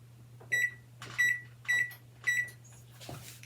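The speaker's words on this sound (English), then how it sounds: "And then we're going to set our timer for 20 minutes." A kitchen timer sounds four high electronic beeps in an even rhythm, each with a soft click, over a low steady hum in a kitchen where pork buns are steaming on a stove.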